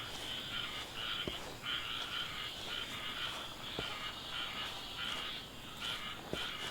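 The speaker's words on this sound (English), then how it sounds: "What am I hearing? I thought it was frogs," Frogs croak steadily through a night scene in the video game Book of Travels, a dense chorus of rhythmic calls with occasional sharper, closer croaks punctuating the continuous background.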